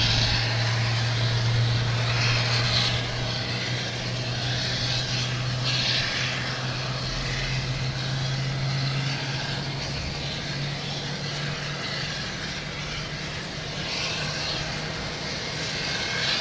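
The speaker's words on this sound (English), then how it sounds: "We have a JetBlue coming in from Nantucket." A JetBlue jet arriving at Boston Logan from Nantucket at night produces a continuous distant engine rumble with a low steady hum underneath and gentle swells of noise, no talking.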